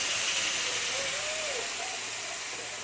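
Ground spice paste, added after nigella seeds, fries in hot oil with a steady, loud broadband hiss and sizzle that holds evenly throughout.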